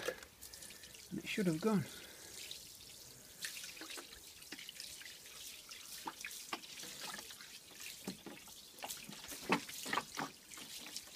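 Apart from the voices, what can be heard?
water rinsing oil stain off concrete driveway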